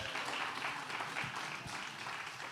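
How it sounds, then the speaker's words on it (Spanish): Short burst of applause from a church audience honoring the winning team, a dense steady patter of many hands at moderate level, with no talking over it. "Le damos un aplauso a los hermanos derechistas"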